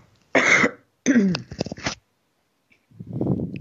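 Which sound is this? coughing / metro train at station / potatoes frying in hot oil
coughing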